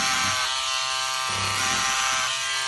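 Electric scissors cutting ribbed knit fabric, a loud close steady buzzing whine that shifts in pitch as the blades bite through the cloth, with no talk.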